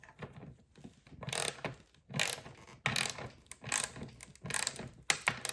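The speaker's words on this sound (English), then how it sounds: "And I'm going to tighten up all of my nuts." A socket ratchet tightens nuts on a chair being reupholstered, giving close, bright bursts of rapid clicking in repeated strokes about every half second to second, with no talking.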